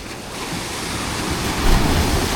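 Ocean waves breaking near a beach, a steady close roar of surf that swells near the end, with no talk.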